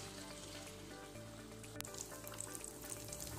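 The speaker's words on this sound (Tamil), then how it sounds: "நாலு பிசியம் போட்டால் எண்ணெயில் இப்போ பாயில் ஆகிட்டு இருக்கு, கொதிக்குது பாருங்க" Sweet dough balls frying in boiling oil for a Tamil sweet, a dense, continuous close sizzle with light bubbling pops and no talking.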